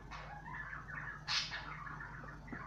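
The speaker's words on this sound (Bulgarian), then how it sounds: "Ако чувате някакви звуци, това са папагалите ми," Pet parrots calling indoors, a few chirpy squawks and a brief sharper burst over a steady low background hum, fairly close.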